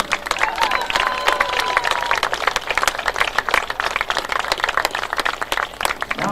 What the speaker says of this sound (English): Ladies and gentlemen, one more round of applause for your